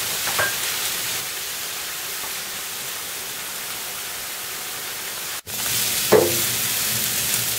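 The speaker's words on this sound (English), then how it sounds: "I cook till the onions are little brown in color" Onions frying in a pan: a steady hiss of sizzling throughout, briefly cut off by a quick gap, with a couple of soft stirring clinks near the start and after the gap.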